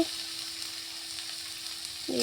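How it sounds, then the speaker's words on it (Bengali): Sliced potatoes fry in a pan for a home meal, a continuous close sizzle with a faint steady tone underneath and a small clatter at the end. "আলু ভাজা বসিয়ে দিয়েছি"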